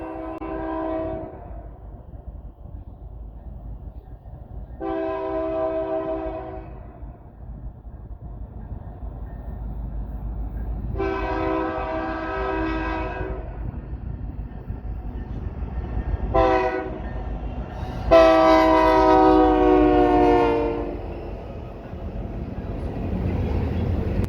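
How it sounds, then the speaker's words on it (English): A CSX tank train led by Canadian Pacific locomotive 7020 sounds its horn in several separate blasts, the last long and loud, over a steady low rumble of rolling railcars. "Canadian Pacific number 7020 is seen leading the train."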